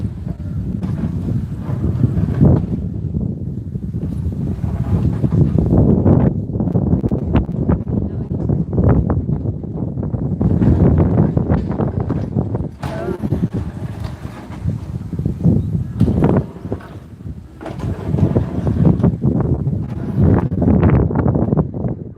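Strong wind on a mountain in Bohol buffets the microphone in loud, uneven gusts, rumbling and roaring throughout with brief lulls between blasts.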